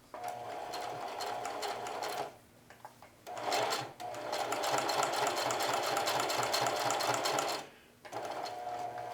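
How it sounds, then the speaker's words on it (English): A sewing machine runs in steady, loud bursts while bar tacking a jeans pocket, with rapid needle stitching broken by brief pauses between passes. "and now I'll bar tack it."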